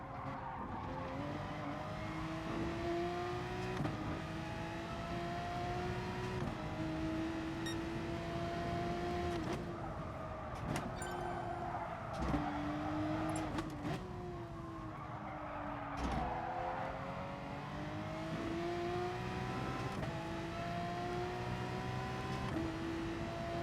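Race car engines in GT Sport, including a Citroen and a Mercedes running in close company. The engines whine with a steady tone that climbs and drops as the cars shift gears, with occasional tire scrubbing, continuous and fairly close.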